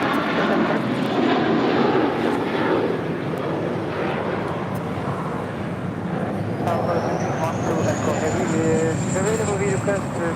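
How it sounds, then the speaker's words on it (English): A Lufthansa Airbus A350 taxis and turns onto a taxiway at Los Angeles International Airport, its engines a steady rumbling whine with a rising tone near the end, while people chat nearby. "the A350 with Lufthansa making that left-hand turn onto Lima"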